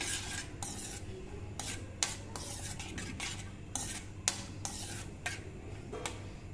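Chopped cashews fry in two spoons of ghee in a kadai, with steady scraping and stirring against the pan, sharp spoon clacks and a faint sizzle underneath, close and moderately loud, with no voices.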